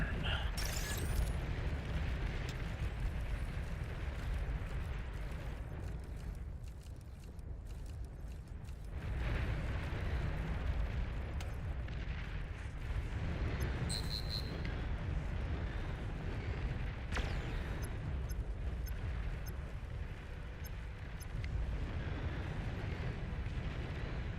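Artillery units fire in the strategy game Beyond All Reason, a dense continuous rumble of distant booms and bursts layered with mechanical clatter, loud and sustained, with brief sharper blasts and a voice occasionally over it.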